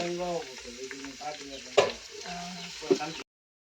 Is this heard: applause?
no